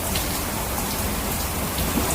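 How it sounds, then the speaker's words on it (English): Heavy rain from a storm squall pours onto a trawler boat moored in the Berry Islands, Bahamas, a dense, loud, continuous hiss with no talking. "there's a huge storm squall right now"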